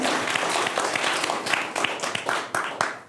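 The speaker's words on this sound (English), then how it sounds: "So a big round of applause for Liana, who's made this happen." Audience clapping for a speaker at an on-stage talk, a full, even round of applause with scattered sharper claps standing out, fading slightly at the very end.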